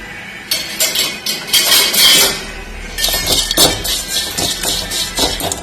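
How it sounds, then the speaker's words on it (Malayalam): Dried shrimp dry-roasting in a pan, with loud metallic clinks, taps and scraping as a utensil stirs and rattles the shrimp against the pan in quick, irregular bursts. "നമുക്കൊന്ന് ഉണക്കച്ചെമ്മീൻ വറുത്തെടുക്കാം."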